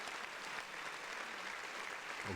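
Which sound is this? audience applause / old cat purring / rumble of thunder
audience applause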